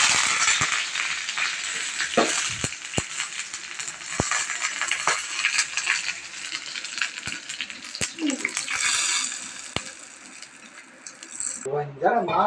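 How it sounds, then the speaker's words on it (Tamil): Hot oil with mustard seeds and curry leaves sizzles and crackles steadily for several seconds, with sharp pops and a few clinks of a utensil against the pan. "இப்போ இந்த சட்னிக்கு ஒரு தாளிப்பு கொடுத்துக்கலாம்."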